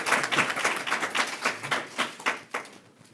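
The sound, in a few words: women clapping at an opening bell ceremony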